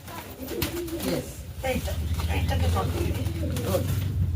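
Pigeons coo repeatedly, low and close, while a person talks over them.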